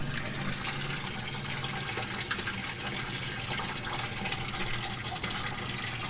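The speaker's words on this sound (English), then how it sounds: "Let me get some water out of here." Aquaponic sump water gushes steadily into a water bottle, a continuous close splashing, filling rush that holds at an even level throughout.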